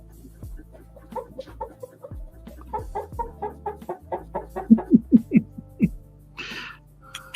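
A voice imitates a turkey call, producing a rapid run of clucking, gobbling notes that grow louder and more insistent, then break off into a brief high squeak at the end.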